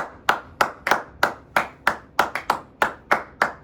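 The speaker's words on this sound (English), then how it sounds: "Can I get a round of applause one time?" A single pair of hands claps steadily about a dozen times, close and crisp, in an even rhythm with nothing else around.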